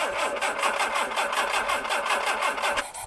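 An old pontoon boat's outboard engine, restarted after thirty years of disuse, runs with a fast regular chugging pulse, close and steady, and its note shifts slightly just before the end.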